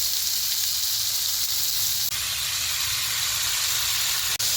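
Sliced onions frying in hot oil for a country chicken saaru, a steady loud sizzle and hiss throughout with no one talking.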